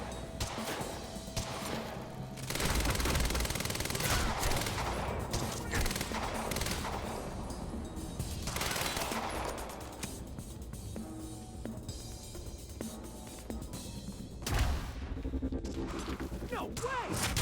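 Sustained gunfire from Quantum Break, dense overlapping shots and impacts running through the whole stretch at a moderate level, with occasional heavier thuds.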